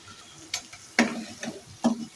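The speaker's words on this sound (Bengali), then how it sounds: "কাঁচা লঙ্কা কুচিটা দেওয়ার পরেও কিছুক্ষণ আর একটু নাড়িয়ে নিচ্ছি" Masala with three or four chopped green chillies is stirred in a pan while making chicken dopiaza. A few distinct spoon scrapes stand out over a soft sizzle, close and moderately loud, with no talking.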